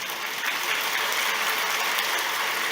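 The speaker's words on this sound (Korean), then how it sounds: "박수는 좀 이따가 해줘야 되겠어요." Congregation applauding inside a church during a sermon, a dense continuous wash of many hands clapping, steady and fairly loud with no voices over it.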